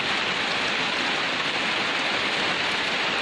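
Steady, heavy rain pours down continuously on damaged corrugated metal roofing, a dense broadband hiss with drops drumming on a surface, loud and close with no voices.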